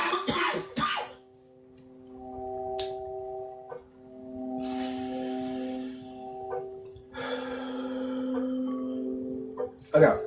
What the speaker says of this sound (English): I'm gonna like cough my lungs out.